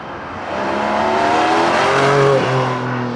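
A Porsche runs an autocross course on a track day, its engine roaring loud and steady with rising revs and a brief dip as it shifts or turns.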